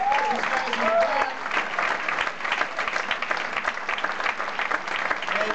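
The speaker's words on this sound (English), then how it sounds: "Round of applause" A Q&A audience at a film screening applauds steadily as people are called to stand, dense clapping filling the room throughout, with a few faint voices mixed in.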